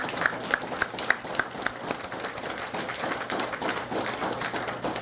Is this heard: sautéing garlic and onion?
no